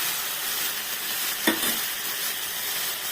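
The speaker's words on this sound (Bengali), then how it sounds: "কিন্তু এটা তো শুটকি, এটাকে একটু ভালো করে ভাজতে হবে" Dried shrimp frying in a pan, a steady loud sizzle throughout with one brief scrape of stirring midway, close up and without talk.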